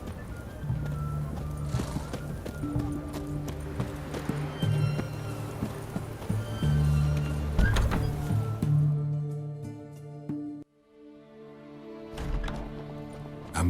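Hooves of Roach, Geralt's horse in the video game The Witcher 3: Wild Hunt, clip-clop at a steady gallop over game music, with a brief whinny; the hoofbeats and music drop out near the end.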